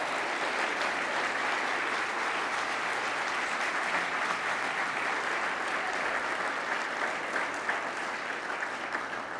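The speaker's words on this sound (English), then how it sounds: "Let's give them another round of applause" A large banquet audience at a family business awards show gives sustained, even applause, a thick continuous wash of clapping with no speech on top.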